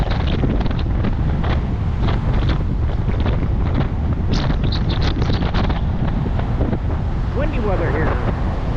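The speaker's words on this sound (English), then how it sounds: "Windy weather here." Strong wind gusting at Miramar Beach, Florida, roaring loudly and continuously across the microphone, with faint voices underneath.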